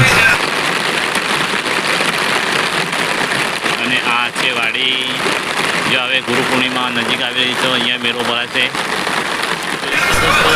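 Steady heavy rain hissing on surfaces outdoors near a temple, with an engine idling underneath and someone talking over it throughout.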